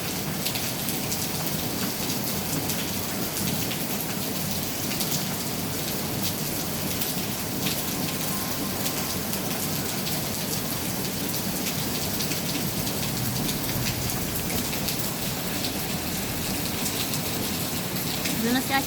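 Heavy rain pours down steadily outdoors in the Philippines, a dense, unbroken hiss of drops drumming on surfaces, loud and close with no letup.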